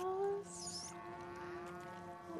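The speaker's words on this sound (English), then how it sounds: "Hello, my woolly cows." Woolly cows in the video game The Outer Worlds give a low, drawn-out moo with a steady tonal hum, briefly overlapped by a higher whining electronic tone, set against a faint background drone.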